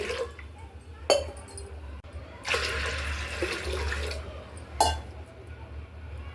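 Water splashes into a pot of dal in several bursts, one longer steady pour between short splashes, close by in a quiet room.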